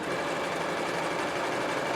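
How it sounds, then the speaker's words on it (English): A sewing machine runs steadily while stitching a fabric mask, giving a continuous dense mechanical whir with no pauses and no talk. "place it on your sewing machine"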